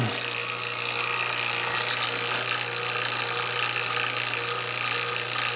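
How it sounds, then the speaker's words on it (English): A vacuum pump drones steadily while evacuating a 3-ton Goodman heat pump system during an HVAC install, a loud, unbroken motor hum with a strong low tone and no talking. "Pulling the vacuum right now."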